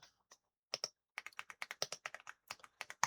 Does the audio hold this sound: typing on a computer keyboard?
yes